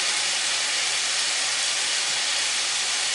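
Steady broadband sizzle of leftover bacon grease frying in a pan, a constant hiss with no talking.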